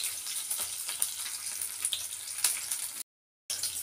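Green and red chillies, garlic and urad dal fry in hot oil in a pan, giving a close, bright, continuous sizzle with occasional crackles and pops, alone without any talk.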